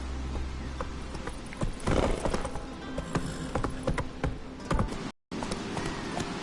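A horse in a PS4 video game gallops with steady, fairly loud clip-clop hoofbeats throughout, briefly cutting out near the end before resuming.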